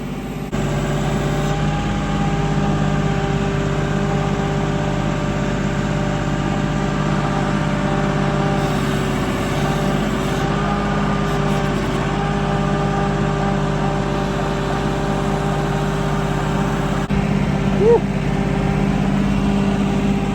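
A tractor engine drones steadily under heavy load while hauling a large hay bale, a constant low mechanical rumble with a humming whine, no voices.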